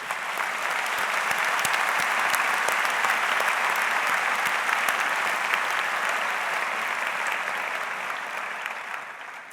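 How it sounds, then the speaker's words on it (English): Graduation ceremony audience at the Rackham Graduate Exercises applauding, a dense, sustained wash of many hands clapping that holds steady for several seconds and tapers slightly at the end. "We all applaud you."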